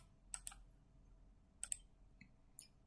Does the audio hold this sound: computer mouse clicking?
yes